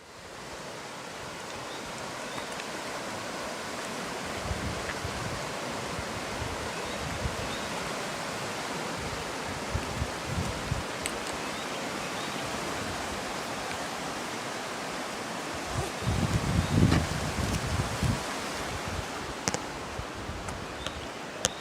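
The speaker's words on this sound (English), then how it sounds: "That is Jennings Creek." Jennings Creek on the Appalachian Trail rushing steadily, a dense continuous broadband wash of flowing water close by, unbroken throughout with faint occasional knocks.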